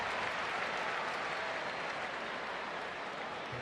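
A big stadium crowd applauds and cheers steadily on opening night of a Blue Jays–Angels baseball game in Anaheim, a dense, continuous roar of clapping that holds at a constant level with no talk over it.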